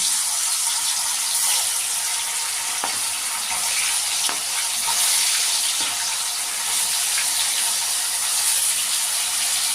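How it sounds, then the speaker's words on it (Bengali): Paneer fries in hot oil in a wok, giving a loud, dense, constant sizzle up close, broken by a few faint clicks of pieces shifting in the oil. "তেলটা গরম হলে আমি পনিরগুলো ভেজে নেব আস্তে আস্তে"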